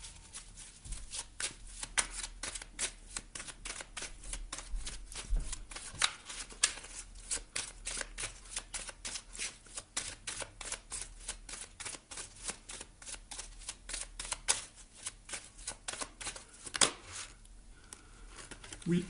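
Tarot cards are shuffled and handled during a reading, making a long run of rapid, crisp riffling flicks and slaps close up, with light paper rustling throughout.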